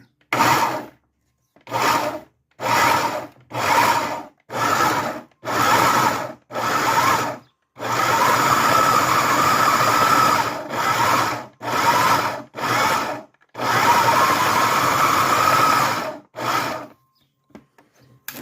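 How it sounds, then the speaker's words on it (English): Figs pulsed in a food processor to a coarse grind, loud motor bursts of a second or two in a fast on-off rhythm, then several longer whirring runs, with no talking. "now I'm just gonna pulse this"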